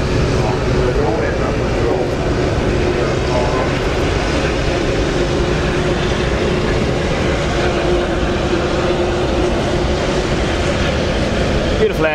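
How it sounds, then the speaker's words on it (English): Boeing 737 MAX jet lining up on the runway at Farnborough Airshow 2018, a steady loud engine roar filling the whole stretch, with a commentator's voice talking faintly over it. "Lining up now is the 737 MAX about to go out."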